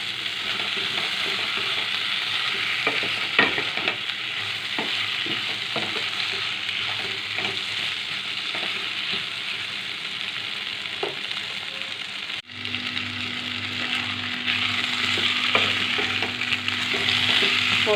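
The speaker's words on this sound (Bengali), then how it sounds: "মশলা কষা হয়ে গেছে," Spice masala for a fish curry fries in oil and is stirred steadily, with a continuous close sizzle and repeated clicks and scrapes of the spoon against the pan.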